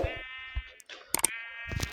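A sheep gives a couple of close, wavering bleats, separated by short rustling and handling noises, in a brief outdoor moment without speech.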